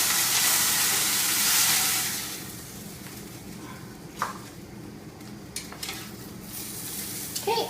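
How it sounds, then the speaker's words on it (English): Beef roast searing in hot oil in a pan for German sauerbraten, a loud hissing sizzle at first that settles into a quieter crackle with scattered pops and scrapes. "you want to sear your meat on all sides, ends as well"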